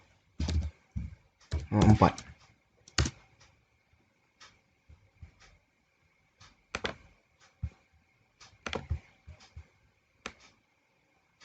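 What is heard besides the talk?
typing on a computer keyboard to fix a typo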